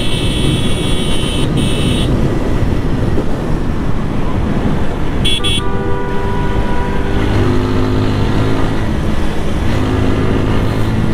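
A vehicle engine drones loudly and steadily while accelerating to overtake, its rising whine riding over heavy wind rush and road noise, with no clear speech.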